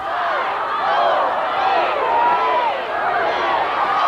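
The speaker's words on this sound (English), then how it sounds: "There you hear the crowd counting it down." A football stadium crowd at a 1983 Central Valley Bears vs University Titans game chants in unison while counting down the last seconds on the clock, a dense, steady roar of many voices filling the whole stretch.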